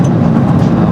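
Steady, loud low-pitched drone of a passenger jet cabin in flight from Toronto to London, a continuous broadband rumble with no breaks and no talking.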